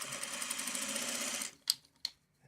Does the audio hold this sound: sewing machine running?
yes